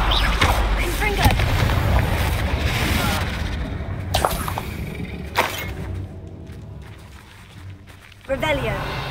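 Confringo fire spell explosions in Hogwarts Legacy: several heavy booms and crackling blasts burst out over a busy combat soundscape, with voices speaking over the action.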